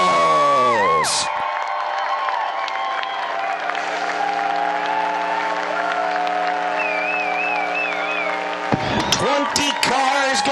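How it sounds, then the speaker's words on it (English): A large crowd at a dirt-track 600 mini sprint race at Deming Speedway roars and cheers loudly and steadily, with sustained yells and whoops over a constant droning engine hum, swelling near the end. "Wave your hats, yell at the top of your lungs."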